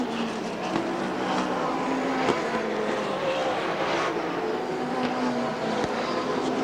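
Stock cars racing hard at Rockford Speedway during a 1992 ARTGO 300 event, a dense, steady roar of engines at constant loudness, with cars passing by.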